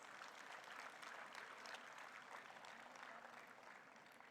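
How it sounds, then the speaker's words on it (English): Audience at a hospital medical convocation ceremony applauding, a fairly faint, sustained patter of many hands in a large hall, continuing evenly without a clear peak. "Can I have the louder applause"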